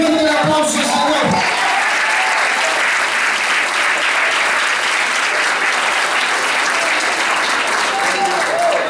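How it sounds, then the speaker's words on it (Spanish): A church congregation at an evangelistic service claps loudly and steadily, a dense, continuous wash of applause, with brief voices near the start. "Dale fuerte el aplauso"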